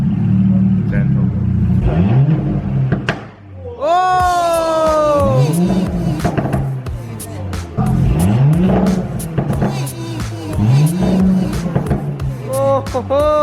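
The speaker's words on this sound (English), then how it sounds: "That thing sounds freaking insane." A 2018 Audi S5 with an AWE straight-pipe exhaust revs repeatedly up and down, each rev rising sharply and falling back, loud and close, with a startled shout over one of the revs.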